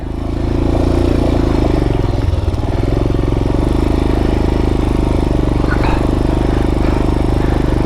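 An off-road motorcycle engine idling and running steadily at close range on a training course, a loud continuous rumble with little change in pitch.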